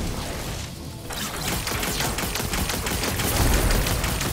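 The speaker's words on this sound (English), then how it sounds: "So this is one of the new guns. New machine gun." A new machine gun fires in Destiny 2, bursts of rapid, punchy automatic shots rattling loudly and close after a brief lull, with no voices.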